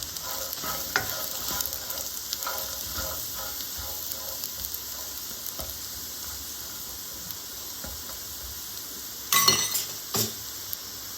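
Chenai (yam) pieces roast in oil in a pan on a gas stove, giving a steady close sizzle with occasional clinks of a utensil stirring against the pan.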